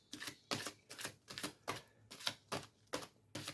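Soul's Journey oracle cards are drawn and handled in a steady series of about eight sharp, snappy clicks and flicks, close and fairly even in rhythm, with no talking.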